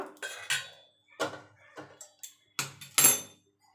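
Metal utensils clink and knock against a pot as fried spices are moved over for a fish-head and cabbage curry, about eight sharp, separate clatters with short silent gaps, close and fairly loud.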